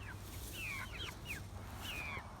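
Chickens kept in a homemade chicken tractor, with soft clucks and a few rising chirps heard at a slight distance over a steady low outdoor hum.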